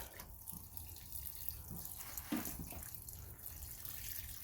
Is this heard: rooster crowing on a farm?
no